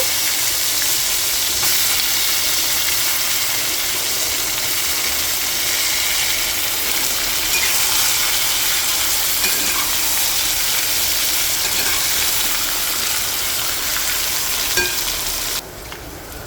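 Pieces of ridge gourd hit a hot pan and sizzle loudly and steadily, a dense, even frying hiss with faint stirring scrapes, continuing without pause until it drops off abruptly at the very end.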